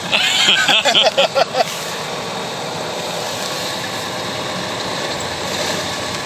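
A Ural off-road truck's diesel engine drones loud and steady up close, a low continuous rumble that carries on through the whole stretch after a brief burst of other noise at the start.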